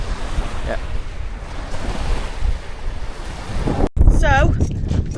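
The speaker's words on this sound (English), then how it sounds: "So, the wind is very windy today" Strong wind and surf on a beach at Kalbarri, Australia, a loud, constant roar of wind buffeting the microphone over crashing waves, briefly cut by a sharp knock near the end.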